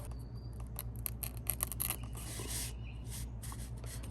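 A freshly sharpened knife slicing through a sheet of newspaper, heard as quiet crisp scratchy cuts over a steady low hum, with a few short strokes and one longer rasp.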